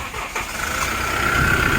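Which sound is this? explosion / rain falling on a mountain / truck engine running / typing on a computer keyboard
truck engine running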